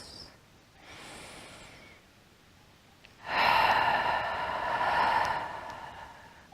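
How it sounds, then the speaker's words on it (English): Slow, deep breaths during a yin yoga meditation: a soft inhale, a quiet pause, then a long audible breath out that swells and fades, close and breathy with no talking. "And then you take a couple of deep breaths."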